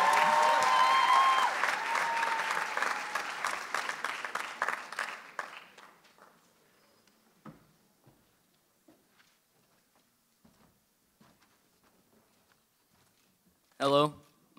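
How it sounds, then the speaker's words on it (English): Audience at a high school poetry slam clapping for an MC, loud applause that thins out and dies away over several seconds, followed by a quiet hall and a brief voice at the end. "Let's give him a round of applause."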